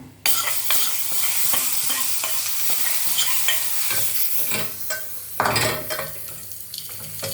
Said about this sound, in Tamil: போட்டுட்டு சும்மா அப்படி ஒரு வதக்கிட்டு அப்படியே நம்ம இந்த தயிரில் கொட்டிடணும்